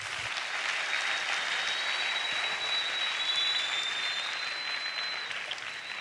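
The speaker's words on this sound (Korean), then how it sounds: "우리 친구들에게 박수." Steady, dense applause from a crowd at an evening church youth summer camp, continuous and fairly even for several seconds with no talking.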